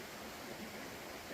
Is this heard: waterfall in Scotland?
yes